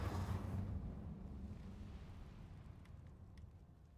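Incendio fire spell cast in the video game Hogwarts Legacy, a heavy whooshing burst of flame that hits loudly at the start and rumbles down over several seconds with faint crackles.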